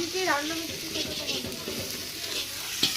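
Ghugni cooking in a pan for a Manasa puja gathering at home, a close, steady frying sizzle with stirring scrapes, and a brief voice in the background near the start.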